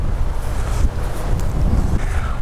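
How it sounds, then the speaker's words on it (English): Strong wind blows outdoors on the west side of the grounds near a windbreak, a steady, loud rumbling buffet that pounds the microphone without letup. "boy, it's a little windy over here"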